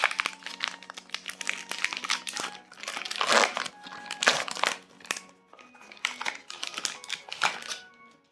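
Pokémon 151 booster pack wrapper being torn and crinkled open, close and loud plastic foil crackling in repeated bursts with short pauses between.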